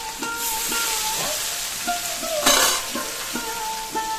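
Food sizzles in a home kitchen pan while a spatula stirs it in repeated scraping, clacking strokes, close by and moderately loud, with one brief louder burst of sizzle midway.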